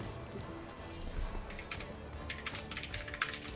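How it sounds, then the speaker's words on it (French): Rapid computer keyboard typing during an Assassin's Creed Valhalla gaming session, scattered keystrokes at first that build into a dense, close burst of clattering taps. "t'entends full ton clavier"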